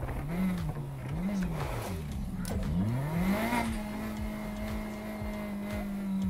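Car in Need for Speed Heat, a twin-turbo S14, revving in reverse with rising and falling engine pitch, then accelerating into a steady high drone, loud and continuous with no talk.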